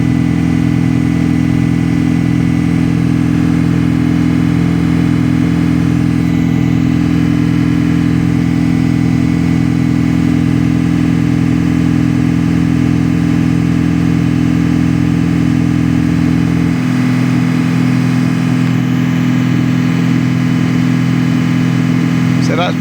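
An Audi A6 engine held at about 2,500 RPM during a DPF cleaning gives a close, steady, even drone throughout, with its tone dropping slightly lower near the end.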